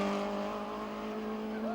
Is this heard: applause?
no